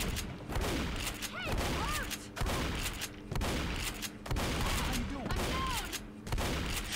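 Gunfire in the Left 4 Dead video game: repeated bursts of rapid shots, loud and close, broken by short gaps, with strained shrieking sounds mixed in.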